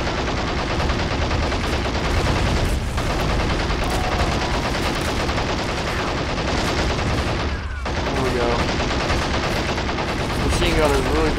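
Machine gun fire in the Men of War: Assault Squad 2 video game, rattling in dense sustained bursts amid other gunfire and battle noise, loud and continuous, with brief dips.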